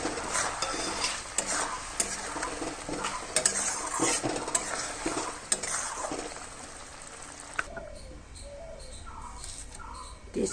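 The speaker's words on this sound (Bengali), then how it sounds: "এখন মাছটা দিয়ে আর একটু কষাবো।" Baan fish sizzles in a pan while being sautéed, with frequent spatula scrapes and clinks through most of the clip, and then the frying fades to a quieter hiss near the end, where faint bird chirps come through.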